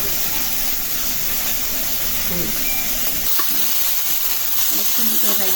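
Prawn spice masala fries loudly in a pan, with a dense, crackling, close-up sizzle and stirring, while faint voices murmur in the background.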